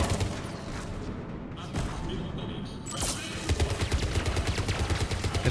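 Automatic gun turret fire in the video game Mass Effect 3 rattles out in dense, loud bursts that grow into a rapid, regular stream, with a few heavier booms along the way.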